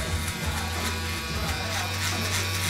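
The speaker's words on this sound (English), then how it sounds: "there's another trimmer I'm gonna pull out where I'm gonna try to transition from skin to stubble" Electric hair trimmer buzzing steadily through a haircut for a pompadour fade, a close, continuous motor hum with slight shifts in pitch as it moves over the head.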